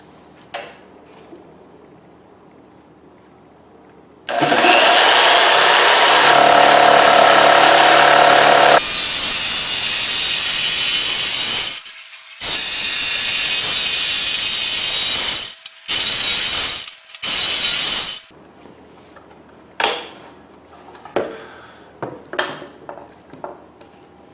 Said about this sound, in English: we're going to use a jigsaw to make our cut